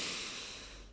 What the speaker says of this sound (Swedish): Andas in.